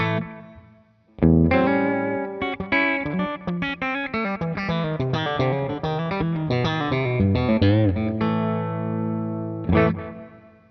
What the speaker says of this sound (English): And then I'll add a little bit of reverb.